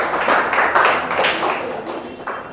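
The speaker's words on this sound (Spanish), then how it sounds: "aplauso para ustedes que están buscando el bienestar de los demás" An audience claps and applauds at a leadership lecture, a steady, dense patter of hands lasting a couple of seconds, close and fairly loud.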